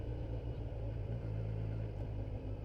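A Kawasaki Versys 1000 SE motorcycle engine runs at low revs in second gear at walking pace, a steady, even rumble that holds close and continuous throughout with no talk over it.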